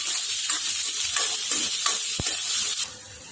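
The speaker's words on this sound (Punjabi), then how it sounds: "ਹੁਣ ਆਪਾਂ ਇਹਦੇ ਵਿੱਚ ਇੱਕ ਕੱਟਿਆ ਹੋਇਆ ਪਿਆਜ਼ ਪਾ ਦਵਾਂਗੇ ਪਿਆਜ਼ ਨੂੰ ਬਣਾਵਾਂਗੇ" Chopped onion with garlic sizzles in a pan for a spinach and amaranth saag, a bright, continuous crackle up close, punctuated by a few stirring scrapes and one sharp clink of the spoon.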